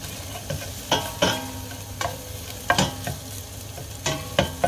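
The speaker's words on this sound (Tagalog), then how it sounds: "hintayin natin muna yung mag-brown ba ng konti or bumango ang ating luya" Ginger frying in a pan for Filipino ginataang monggo, a steady close sizzle broken by sharp stirring scrapes of the spatula every second or so, with no talking.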